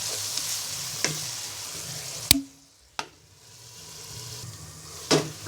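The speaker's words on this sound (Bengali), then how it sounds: "5 মিনিট কষিয়ে নিব।" Chili powder and cumin powder masala sautéing in a pan, a soft steady sizzle broken by a few sharp clicks and scrapes of a spatula stirring, close and moderately quiet with no talk.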